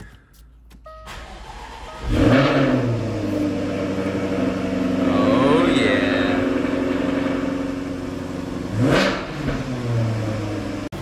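A rebuilt, previously wrecked Jaguar F-Type R engine cranks and catches, revs up, then settles into a steady warm-up idle with another brief rev; a voice speaks briefly.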